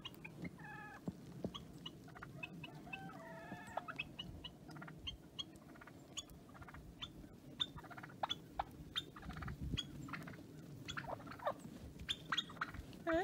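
Farm turkeys out in fresh snow, with repeated gobbles and warbling calls at mid distance over a steady low outdoor rumble and scattered clicks.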